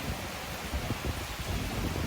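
Rain falling outside a shop makes a dense, steady hiss with a low rumble, continuous and even throughout, with no voices.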